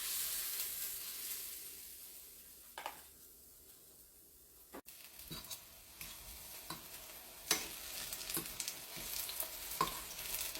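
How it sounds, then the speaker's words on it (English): Spoonfuls of Jamaican banana fritter batter fry in hot oil, giving a soft, steady sizzle and hiss. Occasional clicks and sharp taps come from a utensil on the pan. The sizzle stays quiet and close, and no one speaks. "So we just have to spoon out the batter now and fry it."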